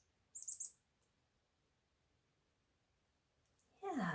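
A chickadee call played back from a recording, a quick bright burst of high chirps near the start followed by quiet, then a louder noisy sound at the very end.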